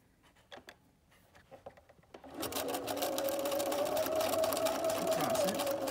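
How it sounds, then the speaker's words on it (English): After a few light handling taps, a sewing machine starts and runs steadily, stitching an overlapped elastic seam on a double gauze skirt with a close, even whir. "I've just overlapped it and I'm going to sew it and then I'm going to back stitch"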